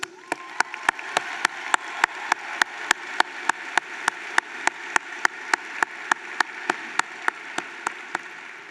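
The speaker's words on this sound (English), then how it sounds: "Please join me in applauding our distinguished guests." Audience applause for distinguished guests at a 2024 Eastern Connecticut State University commencement, a steady wash of clapping with sharp, regular louder claps punching through over several seconds.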